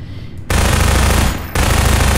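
Rapid automatic gunfire in the video game Half-Life 2, two loud sustained bursts close up separated by a brief pause.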